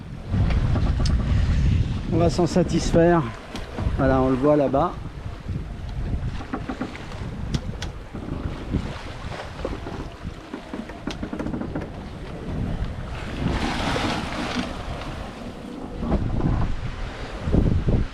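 A sailboat under way at about five knots in roughly 11 knots of wind on an open-sea crossing from Puerto Rico toward Nassau, with steady wind rush and water noise throughout and someone talking over it.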